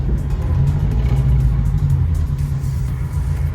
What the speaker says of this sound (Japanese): エクゾスト音がいいね。